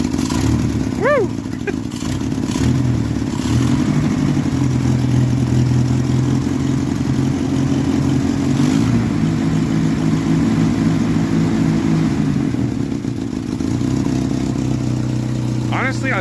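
A 1986 Jeep Comanche 2.5L engine idles steadily and close by after an exhaust manifold gasket repair, with a low continuous rumble and an uneven, sputtering note running throughout; faint voices come in briefly near the start and end.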